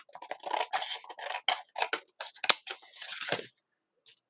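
Excess paper trimmed off the back of a handmade card, a quick series of close, soft snipping and cutting strokes in an irregular rhythm, then quiet.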